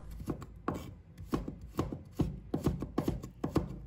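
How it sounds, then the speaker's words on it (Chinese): A knife cutting carrot into thin strips on a board, a quick run of regular crisp chops, close and clear, with no voices. "再将胡萝卜给它切成细丝"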